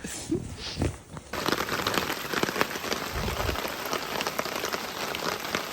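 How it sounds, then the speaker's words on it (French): Steady jungle rain in Suriname patters densely on a nearby surface just beside a hammock, close and continuous, with a few thumps and rustles at the start. "Ça pleut littéralement à 5 cm du hamac."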